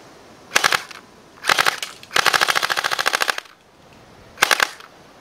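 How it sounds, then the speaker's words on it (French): A Tokyo Marui MP5 airsoft replica fires full auto in four bursts, two short ones, then a long rapid rattling burst that empties the magazine, then a final short burst, loud and close. "on vide le chargeur à vitesse grande V"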